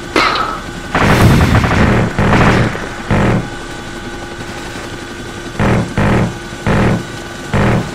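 Explosions and gunfire from a night strike on oil rigs, seen from a Chinook helicopter: a steady rotor drone runs throughout, broken by loud blasts early on and a regular series of sharp bursts near the end, with no talking.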